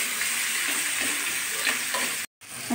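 Salted onions frying lightly in a kadai, a soft continuous sizzle with faint stirring scrapes, briefly cutting out near the end before resuming.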